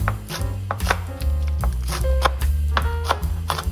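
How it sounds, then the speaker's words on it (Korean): Knife chopping vegetables on a cutting board for dried pollack soup, a quick series of close, crisp strikes at a steady, slightly uneven rhythm with no talking. "먼저 국에 들어갈 채소들을 손질할게요"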